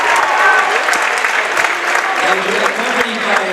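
A short burst of steady, dense applause from the stands for a player at a high school boys' varsity basketball game, loud and continuous with a voice faintly in the mix.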